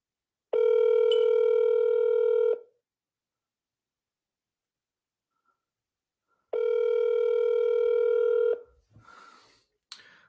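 A WhatsApp phone call rings out with two long, steady electronic tones separated by a few seconds of silence, loud and clear, followed by faint clicks.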